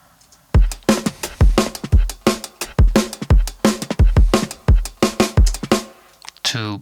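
A punchy drum loop repeats steadily, with kick and snare hits landing in a tight rhythm and bright cymbal hits, loud and close with no voices.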